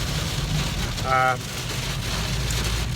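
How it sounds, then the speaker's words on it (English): Heavy rain roars steadily on a car roof while driving in the Tarkine, Tasmania, a dense constant hiss with engine rumble underneath and a brief tone partway through. "basically it is a real downpour"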